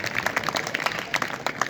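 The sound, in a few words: applause welcoming students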